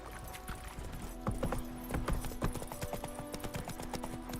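Roach, Geralt's horse in The Witcher 3, breaking into a gallop, hooves pounding in a quick steady clip-clop rhythm up close.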